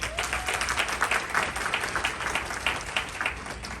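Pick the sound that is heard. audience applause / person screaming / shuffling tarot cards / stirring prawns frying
audience applause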